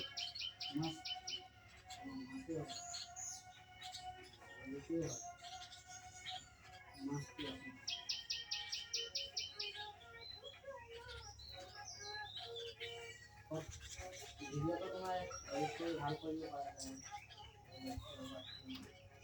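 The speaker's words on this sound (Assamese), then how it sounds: "এই বুলবুলি চৰাইৰ শব্দ" Repeated bright chirping bulbul calls in short bursts, fairly near, over a faint background with occasional rustles and distant voices.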